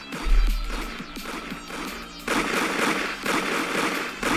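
Rapid crackling gunfire and explosion effects in the Toilet Tower Defense video game, dense overlapping pops and bangs running continuously at moderate level.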